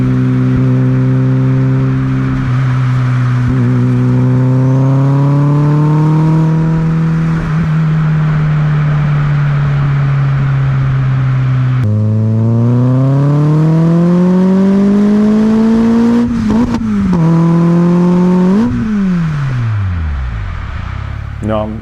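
A VW Polo engine, running a little louder than normal, drones steadily while driving, its pitch gliding up under acceleration, dropping at gear changes and climbing again, with a short revving burst near the end.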